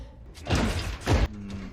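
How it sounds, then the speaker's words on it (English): A door opens or closes in a film scene with two dull, heavy thuds a moment apart over a quiet background. "Door."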